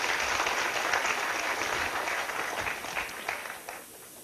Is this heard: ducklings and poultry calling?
no